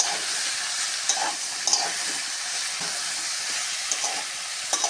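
Vegetables, peas and soybean chunks sauté in a hot pan with a steady, even sizzle and occasional soft scrapes of stirring, close and constant throughout.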